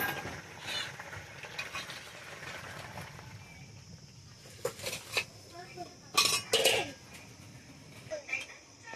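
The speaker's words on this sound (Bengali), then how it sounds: "ঢাকাটা খুলছি, হয়ে গেছে, এবার নামিয়ে নেব" A pot lid comes off and a pot of thin shing fish curry with potato and pointed gourd is lifted from the stove. Scattered metallic clinks and clanks sound close by, clustered near the end, with a faint voice in the background.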